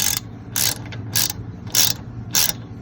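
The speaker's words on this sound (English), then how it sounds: "The slider bolt or pin with the number 7 hex key." Five sharp ratchet bursts, evenly spaced and close, as a number 7 hex key turns a brake caliper slider bolt on a 2005 Mini Cooper during a brake pad change.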